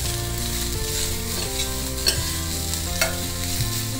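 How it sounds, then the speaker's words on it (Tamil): Beetroot chops are stirred and mixed in a hot pan, a continuous sizzle with a low steady hum beneath and a couple of light scrapes and clinks of a spoon against the pan. "நல்லா மிக்ஸ் பண்ணி விட்டுருங்க"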